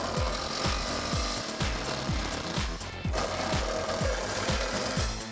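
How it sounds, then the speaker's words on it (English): Impact wrench with a 1/2 inch socket backing out a transmission mount bolt: loud rapid hammering bursts in a steady rhythm, close up, with one brief pause, no talking. "Using a 1/2 inch socket, we're going to remove the transmission mount bolt."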